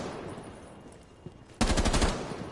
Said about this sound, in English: so that was a wall bang there